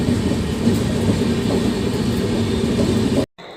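A passenger train on the Howrah to Bhopal journey gives a loud, steady rumble of rail travel from on board, with wheel noise and a faint clatter, and it cuts off abruptly near the end.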